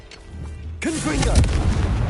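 In Hogwarts Legacy, a Confringo fire-blast spell strikes during a Merlin trial. Quiet ambience gives way to a sudden loud booming burst that sustains with rumble, with a brief voice-like tone at its onset.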